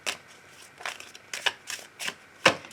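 A deck of oracle cards being shuffled for a love reading, with soft riffling bursts in an uneven rhythm, close and fairly quiet.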